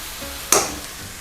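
Minced pork with oyster sauce, dark soy sauce and sugar hits a hot pan, giving a single sharp clatter and a short burst of sizzling stir-frying nearby, with no talk.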